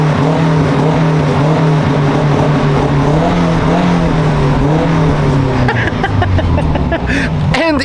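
Subaru Forester boxer engine breathing through a new aftermarket exhaust, warmed up after a drive, a loud steady low rumble with a rally-car character that shifts pitch slightly near the end.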